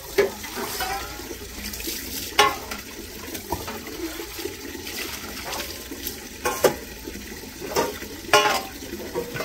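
Plates being scrubbed and washed early in the morning, with running water splashing steadily and a few sharp clatters standing out above it.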